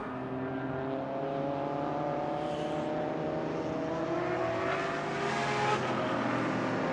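A Super TT race car drives in an hour-long endurance race at Sydney Motorsport Park, its engine droning in a loud, sustained tone with gear changes and a slight pitch rise toward the end.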